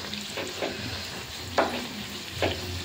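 Luchi (puri) frying in hot oil in a large wok, a steady close sizzle with a few brighter bursts as dough pieces are dropped in or turned, no voices.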